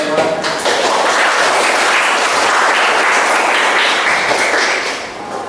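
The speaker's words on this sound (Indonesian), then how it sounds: "Kasih aplaus buat Deva" A classroom group applauds steadily for several seconds, dense clapping that holds level and fades slightly at the end.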